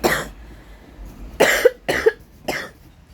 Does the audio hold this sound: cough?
yes